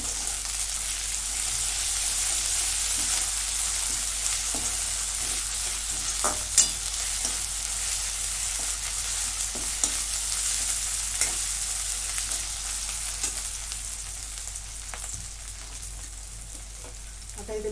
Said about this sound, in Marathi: याच्यात आलं लसूणची पेस्ट टाकून घेते. आता हे परतून घेते